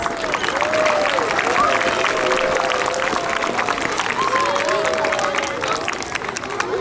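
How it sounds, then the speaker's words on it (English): School audience applauding honor roll students at an assembly, a sustained wash of clapping and crowd noise with a faint tonal whine running through it, steady and fairly loud throughout. "Let's give them all a round of applause"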